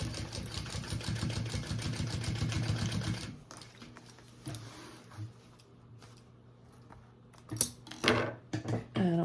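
A sewing machine basting webbing onto a waist bag runs in a fast, even stitching rattle for several seconds, then stops, followed by quiet handling clicks and soft fabric rustles nearby.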